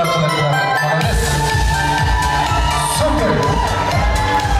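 Guests at a festive Kazakh celebration with a comedian host clap and cheer in a loud, sustained crowd roar mixed with shouts and whoops, close and steady throughout.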